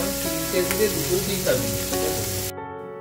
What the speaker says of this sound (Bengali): ওদিকে সবজিগুলো তো ভাজা হচ্ছে